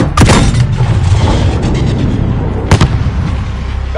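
A grenade explosion in Call of Duty Modern Warfare: a sharp, loud blast at the start, followed by a rumbling tail and a second blast a couple of seconds later.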